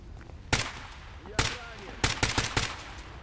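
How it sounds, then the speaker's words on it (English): Enemy gunfire in the video game Stalker GAMMA cracks in sharp separate shots, with two single reports followed by a rapid cluster of four or five, loud against a low background. "Because they can actually shoot through the fence as well."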